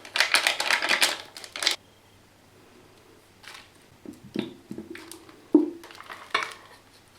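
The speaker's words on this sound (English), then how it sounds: "I'm going to start off with making my bleach. I'm just going to mix 50-50." Hair bleach is mixed in a bowl with a brush, giving bursts of rapid scraping and tapping, a silent gap, then scattered clicks and knocks close by.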